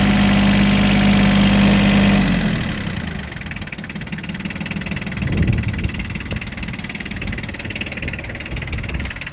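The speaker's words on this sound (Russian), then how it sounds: "Послушайте, как работает двигатель. Просто замечательно, мягко." A Yanmar AF170 tractor engine idles smoothly in a steady, even mid-range rumble, preceded by a brief constant tone at the start.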